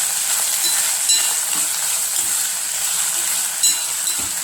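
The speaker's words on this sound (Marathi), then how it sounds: "आता हे आपण भाज्या टाकूया। स्वीट कॉर्न, हिरवे वाटाणे, गाजर, त्यानंतर टोमॅटो" Sweet corn, green peas, carrot and tomato sizzle steadily in a hot pan while poha is being made, giving a close, even hiss with a few faint stirring knocks and no talking.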